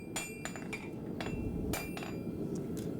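A hammer strikes forged steel on a Kanka forged steel anvil, giving about eight sharp, ringing metallic hits at an uneven pace over a steady low rumble.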